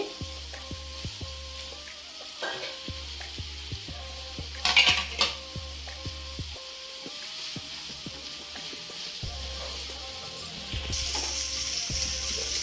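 Chicken pieces frying in a hot pan for chicken 65, a steady close sizzle with repeated clinks and scrapes of a utensil stirring against the pan.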